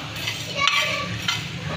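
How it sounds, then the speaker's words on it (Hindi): Coriander seeds, fennel and cumin dry roasting in a pan, a soft steady crackle and rustle as the spices are stirred, with faint clinks of utensil on metal. "ये सूखा धनिया और सौंफ और ज़ीरा, ये मैं ड्राई रोस्ट कर रही हूँ।"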